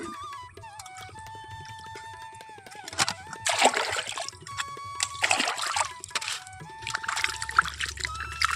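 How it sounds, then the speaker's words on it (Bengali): Fish being washed in water at home: splashing, trickling and sloshing in bursts as the fish is rinsed by hand, close by, over a steady low background hum. "মাছটা আমি এখন ধুয়ে নিই পরিষ্কার করে নিই জলে জলে পরিষ্কার করে নিয়ে"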